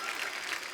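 Studio audience applause for a singer on a televised Indian comedy talk show, a steady wash of clapping filling the whole brief moment without pause.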